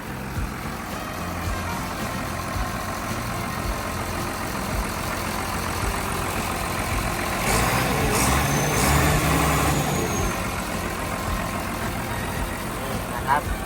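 A Komatsu WA270-5 wheel loader's 6D102 six-cylinder turbo diesel runs at a steady idle nearby, a continuous low rumble, with someone talking over it.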